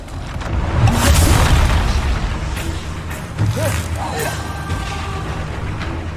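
A Bombarda spell explosion in Hogwarts Legacy on PS4 Pro, a deep booming blast with rumbling low end over steady game noise, followed by smaller magical bursts and effects.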